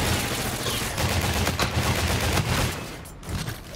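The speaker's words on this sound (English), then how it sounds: "That took way too many shots." Rapid gunfire from a first-person shooter video game: dense, continuous bursts of shots at close range for several seconds, easing briefly near the end before another burst, with no talking.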